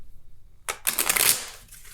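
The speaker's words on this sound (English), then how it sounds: "I'm going to just shuffle it really quickly" A deck of tarot cards is riffled quickly in one short, crisp burst of fluttering paper that lasts under a second, close up after a quiet moment.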